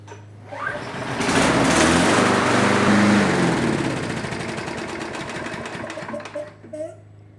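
A Toro walk-behind lawn mower engine starts up and runs with a steady, buzzing drone, loud and close, then settles into a slightly lower idle.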